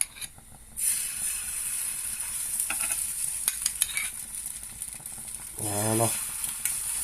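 An egg and turkey crepe fries in a pan with a steady bright sizzle, broken by a few spatula scrapes and taps, with a brief voice near the end.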